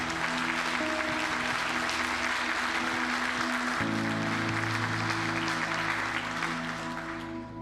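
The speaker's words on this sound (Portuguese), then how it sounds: "Aplaude o Senhor." A church congregation at a Brazilian family worship service applauds the Lord, sustained crowd clapping over steady organ or keyboard chords that shift midway, fading slightly at the end.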